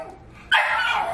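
A dog breaks into a sudden sharp bark after a quiet moment indoors, loud and close, with a brief whimpering, yipping edge.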